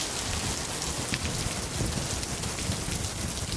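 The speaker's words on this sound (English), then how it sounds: "It rains and rains" Steady rain falls throughout, a dense, even hiss of drops on surfaces with no pauses.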